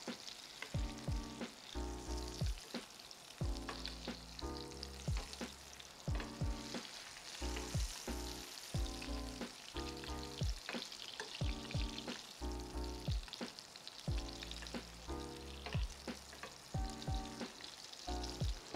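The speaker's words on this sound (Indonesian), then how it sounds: "Lalu kita grill juga si lemonnya." A lemon grills in a pan beside salmon, giving a low, continuous sizzle that runs under rhythmic background music throughout.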